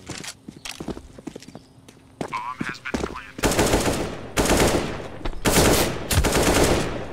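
Video game gunfire crackles in rapid bursts, with a few scattered shots and footstep-like clatter first, then loud sustained automatic volleys in three long strings, with some brief voice sounds in between.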